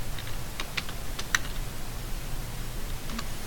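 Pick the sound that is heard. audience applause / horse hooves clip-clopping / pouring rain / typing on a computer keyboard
typing on a computer keyboard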